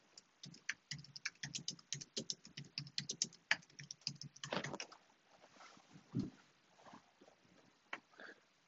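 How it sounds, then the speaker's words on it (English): Rapid clicky keystrokes on a computer keyboard, close and fairly quiet, typed in quick bursts and then slowing to scattered taps and a soft thump, with no talk. "I'm going to type in middle C was pressed."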